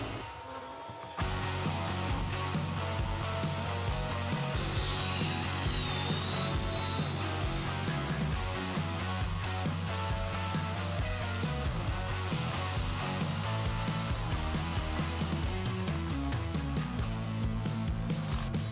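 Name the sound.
hand sawing wooden table panels to size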